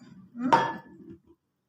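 Eggplant and potato pieces tipped into a cooking pot of mutton dalcha curry, a single close clattering thud against the metal pot followed by a short soft rustle, then quiet.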